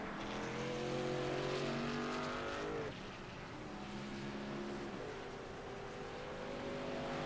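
Racing trucks in a sim racing game at Circuit of the Americas, several engines droning together at high revs, then easing off and holding a steady loud hum, with no voices.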